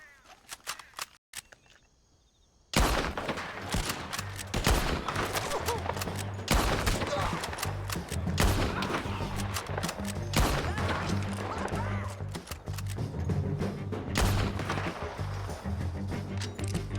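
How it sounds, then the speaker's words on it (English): Dense, continuous gunfire in an open-world Western shooting game, Red Dead Redemption 2, runs steadily and loud for most of the stretch after a brief quiet start, with overlapping shots and impacts. "Let's just start shooting."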